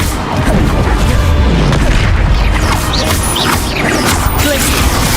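Spell blasts from the Bombarda curse in the Hogwarts Legacy video game, a loud, dense stretch of booming impacts and crashing debris layered over continuous game combat noise with no clear pause.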